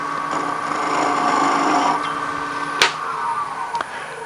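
A drill boring a 1.5 inch hole into wood for a Christmas tea light holder, a steady grinding, rasping cut close by with a couple of sharp clicks near the end.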